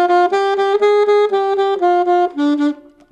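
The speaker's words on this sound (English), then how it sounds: "Second chorus, we're going to play eighth notes, which means they'll sound like this." Saxophone playing a steady line of eighth notes, short bright tones in a rapid even rhythm with small pitch steps, close and loud with no talking.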